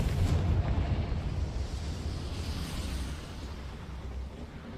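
A Confringo fire spell explodes in Hogwarts Legacy on PS5 Pro, a loud rumbling blast at the start that rolls into a sustained, crackling roar slowly fading over several seconds, with no talking.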